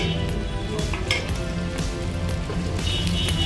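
Fish frying in white cooking oil, a loud, close, continuous crackling sizzle with a few brighter spits and pops, and no voices.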